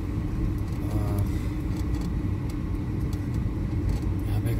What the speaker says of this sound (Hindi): यहाँ पे गाड़ी निकल गई।